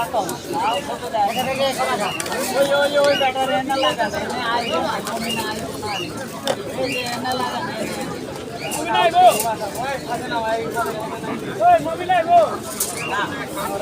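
Busy outdoor pigeon market in Fatullah, Narayanganj, with pigeons cooing and fluttering close by amid a babble of voices and people talking nearby.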